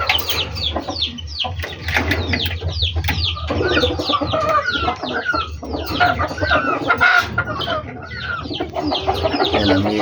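Chickens and young chicks cluck and peep steadily on a farm, several birds calling over one another close by throughout, with busy, overlapping chatter and no clear pauses.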